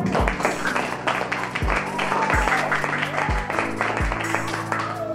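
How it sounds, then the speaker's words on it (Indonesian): Applause from a vocational high school informatics class after a classmate's presentation, scattered clapping in a room with repeated low thumps and background voices. "kita beri tepuk tangan untuk teman kita"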